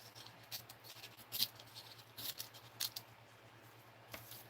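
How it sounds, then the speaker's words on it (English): Scissors snip through material while making wax seals and silicone molds: several short, sharp crisp cuts spaced unevenly over a quiet background with a low steady hum. "Let's just cut it off"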